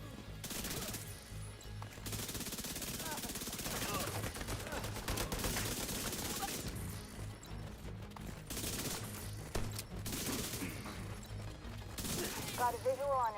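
Gunfire in The Division 2 rattles in dense, near-continuous automatic bursts with a few short pauses, over a busy background of game noise.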